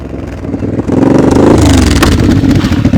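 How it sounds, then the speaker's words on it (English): A nearby motorcycle engine revs up loudly and holds a steady, rough roar. "that motorcycle sounds nice"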